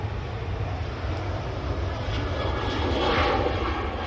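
Departing airliners bound for Madeira roar continuously at Manchester Airport, a broad steady engine rumble that swells slightly near the end as the aircraft climbs away.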